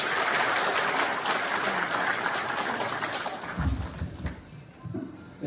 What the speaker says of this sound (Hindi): मैं आपसे गुजारिश करूंगा कि सब आप सभी तालियों से उनका अभिनंदन करें।